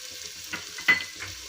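Tomato, carrot, cauliflower and peas being stirred into spiced oil in a pan, quiet scraping strokes and a soft clink of the spoon over a faint low sizzle, brief and close with no talk.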